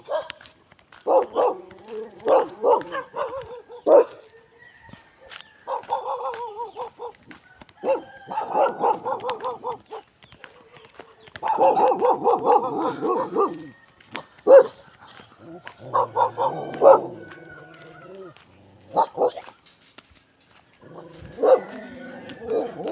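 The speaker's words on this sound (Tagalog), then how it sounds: "mukhang hahabulin tayo ng aso" Several dogs bark excitedly at a rural fishing spot in Abra, Philippines, sharp barks and yips coming in bursts across the scene, fairly close, with a little talk now and then.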